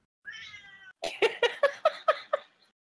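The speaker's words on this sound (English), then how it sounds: "That was my cat," A domestic cat gives one drawn-out meow, then a quick run of about six short, sharp, complaining cries, close and fairly loud against near silence.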